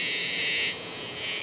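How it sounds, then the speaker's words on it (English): A dog day cicada calls loudly and close by, a steady harsh buzz that drops in intensity partway through and then swells again near the end, with no talk over it. "He's a very loud cicada."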